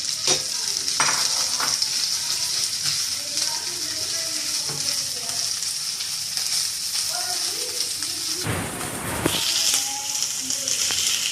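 Shredded boiled chicken stir-fried in a pan with onions, a steady close sizzle broken by scraping spatula strokes and a louder burst of frying near the end, while someone talks over it.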